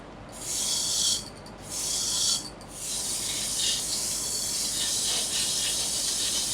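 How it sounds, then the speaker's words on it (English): Sandpaper of 120 grit wrapped around Scotch-Brite is pressed inside a wooden goblet, likely while it spins on a lathe. Two short bursts of harsh rasping are followed by a longer, steady scrubbing hiss, close and fairly loud. "let's hit the inside of this thing real quick with a little sandpaper"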